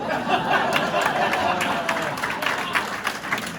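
An audience at a corporate comedy magic show clapping, a moderate wash of scattered applause with occasional crisp individual claps, under light crowd chatter and a voice speaking.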